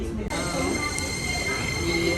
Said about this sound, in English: have arrived at the train station for about 40 minutes